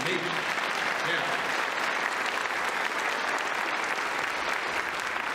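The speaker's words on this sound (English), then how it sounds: "You can clap for that." Broad, even applause from a concert audience for a Kansas Mennonite men's chorus, steady and full for several seconds with no break, heard moderately close.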